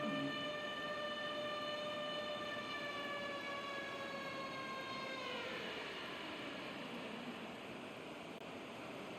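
Air Force cadets in a stadium crowd at a college football game against Boise State roar together, imitating a jet engine at takeoff. The loud, sustained rushing roar carries whining tones that slowly slide downward.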